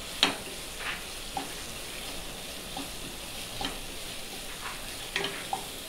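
Onion and capsicum sauté over raised gas heat in a pan for a paneer curry, giving a steady soft sizzle broken by occasional spatula scrapes and light clinks.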